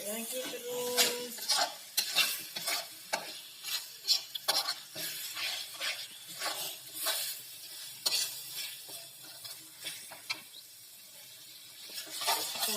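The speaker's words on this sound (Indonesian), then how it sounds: "Kita aduk terus ya." Beef rendang is stirred in a pot for a free mosque kitchen meal, repeated scraping and clattering strokes of a utensil against metal over a low sizzle, close and rhythmic throughout.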